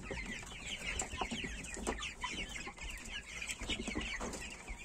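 Young Mechelen Cuckoo chickens clucking and peeping close by, a busy overlapping chatter of small calls that continues steadily throughout.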